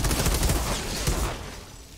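Suppressed gunfire in the shooter game Outriders, a rapid burst of muffled shots in a quick rhythm lasting about a second, then tailing off, fairly quiet and without talk.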